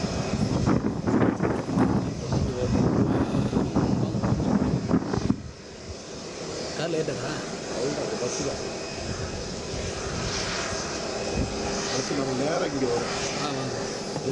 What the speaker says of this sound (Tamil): திருச்சி விமான நிலையத்துக்கு திரு விஜயுடைய விமானம் வந்திருக்கக்கூடிய காட்சிகள்.